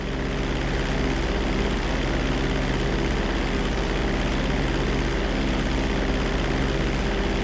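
A plane's engine drones steadily after takeoff in the GTA V flight school, a constant, loud propeller roar with no breaks.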